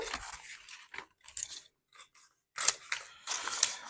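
Scissors snipping through Christmas wrapping paper while gifts are wrapped at home, with a few short, crisp cuts close by that arrive in small clusters between quiet gaps.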